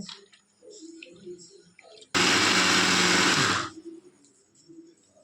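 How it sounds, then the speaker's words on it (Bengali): A kitchen mixer grinder runs for about a second and a half, grinding soaked pea lentils into paste with a loud, harsh whirring roar. Quieter clinks and handling noises come before and after it. "আমার ডালগুলো সব মিক্সারে পেস্ট করা হয়ে গেছে"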